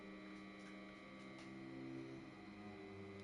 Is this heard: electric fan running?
yes